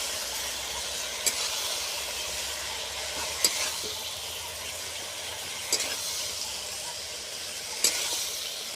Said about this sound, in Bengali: এবার আলুগুলোকে আমি ভেজে নেব।